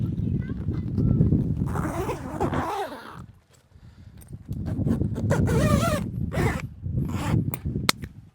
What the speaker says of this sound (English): Right now we're gonna zip it.